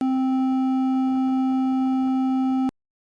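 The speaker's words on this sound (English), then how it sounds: "Imagine we have two buzzers producing two different tones. One produces a low-pitch sound," A steady low buzzing tone drones continuously for over two seconds, with faint muffled voices underneath, then cuts off abruptly into silence.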